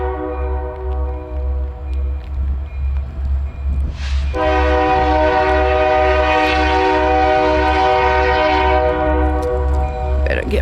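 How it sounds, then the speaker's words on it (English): A train rolls past with a steady rumble while its horn blasts loudly and continuously near the end, heard close by during freezing rain in Herman. "we decided to come up here, and guess what? Comes the train."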